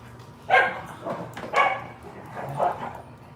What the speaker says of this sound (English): You hear the dogs out there?